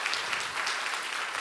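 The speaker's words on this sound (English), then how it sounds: "So clap your hands." A hall audience at a science contest claps together in a steady, dense wash of applause, with no voices over it.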